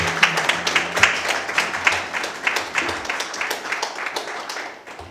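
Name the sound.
audience applause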